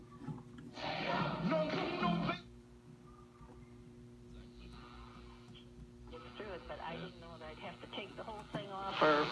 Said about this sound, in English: so we can go ahead and change the channel. Let's listen to 1290.